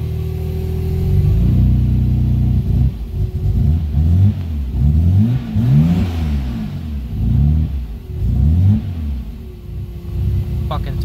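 A Nissan S14 fitted with a single-turbo RB26 engine runs close and loud, its low idle rumble swelling into several revs and settling back between them.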